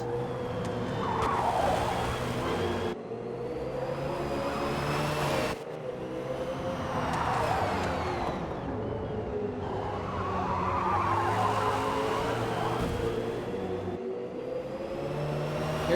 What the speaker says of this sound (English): Bolt, Wara, drag racing down the straightaway.